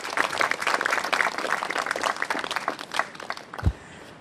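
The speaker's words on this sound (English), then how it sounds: "I think we need a round of applause for our men's doubles finalists for the match we just saw." An audience at a professional tennis tournament applauds the men's doubles finalists after the match, a lively crowd clapping loud and steady before thinning out near the end, with a low thump among the last claps.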